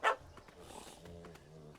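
A puppy in The Witcher 3: Hearts of Stone gives a single short, sharp bark at the start, followed by faint low whimpering tones and quiet game ambience.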